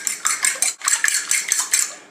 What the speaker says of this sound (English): And we just want to beat the egg and the water together.